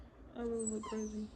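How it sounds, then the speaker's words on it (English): A short-haired dog whimpers for attention in a thin, rising whine lasting about a second, close by, while a person speaks quietly over it. "Excuse my dog, he's making noise."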